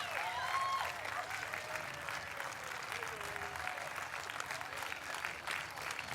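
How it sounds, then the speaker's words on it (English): A crowd applauds the champions of the women's beach volleyball final at the 2012 Florida Open, giving sustained outdoor clapping from many hands. The applause starts strongest, then holds steady, while a voice speaks partway through. "How about a round of applause, ladies and gentlemen?"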